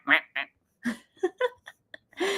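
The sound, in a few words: ducks quacking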